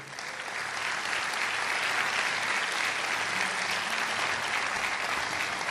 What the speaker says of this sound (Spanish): Gracias, dar un aplauso al Señor.